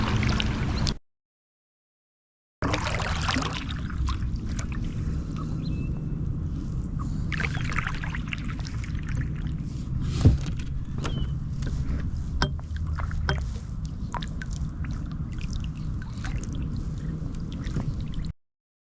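Kayak paddling beneath a bridge in a quiet non-motorized cove, with steady watery strokes and drips ringing in a hollow, echoey space; a brief silent gap near the start, one sharp knock midway.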